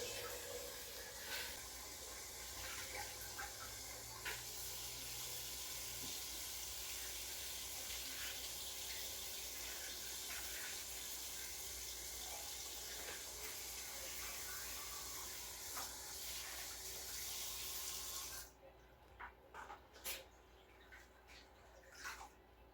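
Tap water runs steadily over collard greens being washed in a sink, rinsed many times after an earlier vinegar soak; a loud, even rushing hiss continues for about eighteen seconds, then cuts off, leaving quiet room sound.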